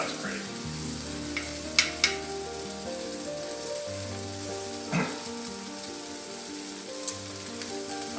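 Butter and flour roux cooking in a pan for chicken divan, a steady soft frying sizzle with a few brief clicks of a utensil against the pan.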